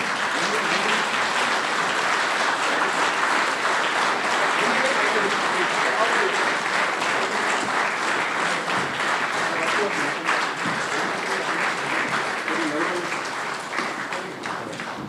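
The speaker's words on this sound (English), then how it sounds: "give him a big round of applause" Audience applause at an annual general members meeting, sustained clapping from a room full of people, steady and fairly loud, tapering slightly toward the end with faint voices mixed in.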